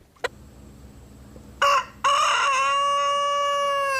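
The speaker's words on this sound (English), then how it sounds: "Chickens are very vocal birds" A rooster crows loudly and nearby in a farm setting, a sharp short call and a brief clucking burst leading into a long sustained cock-a-doodle-doo.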